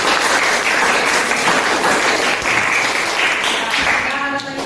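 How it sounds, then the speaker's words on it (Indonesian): A classroom group claps together in sustained, dense applause that fills the whole stretch, loud and even, tapering slightly at the end. "Oke, beri aplaus."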